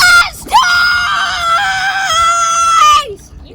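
A person lets out a long, loud, sustained shriek with a rising pitch at the start, outdoors on a boat on a lake, held for about three seconds before trailing off.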